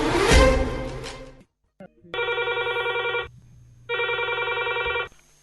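A telephone rings on a radio phone-in show, two loud, close trilling bursts with a short gap between them, following the tail end of a louder sound that cuts off abruptly.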